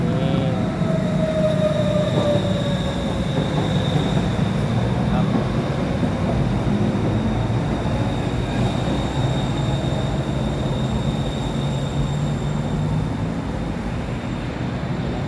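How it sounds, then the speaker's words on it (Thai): A BTS Skytrain rolls into a station in Thailand with a steady rumble, rising electric whine and faint wheel squeal, close by, while a voice talks at times. "ตอนนี้รถไฟกำลังจะมานะครับผม"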